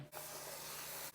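Venison for chili hits a hot pan and sets off a single steady sizzle, close but soft, lasting about a second.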